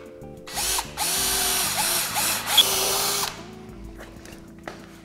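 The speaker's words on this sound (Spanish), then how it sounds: "empezamos por hacer un taladro cercano a la esquina." A power drill with a carbide bit bores into a concrete wall near a corner, whining loudly in a few pulsing bursts for about three seconds, then stopping, followed by faint handling clicks.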